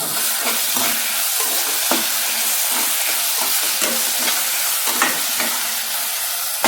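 Tomatoes with salt sautéing in a pan for mutton liver pepper fry, a constant close sizzle overlaid with repeated scraping stir strokes at an irregular pace, with no voices.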